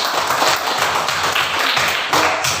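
A group claps for a classmates' presentation in a classroom, dense steady patter of many hands close by for a few seconds with no talking.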